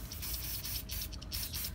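Spray can hissing onto a Q-tip for skin tape, a steady close broadband spray with slight pulsing across the whole moment, no talking.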